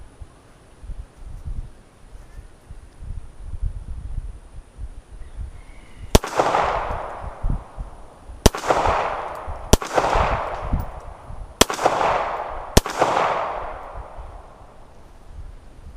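Sharp handgun shots from a Star BM fired at steel targets ring out five times in an uneven string after a quiet stretch, each report loud and close with a short decaying ring.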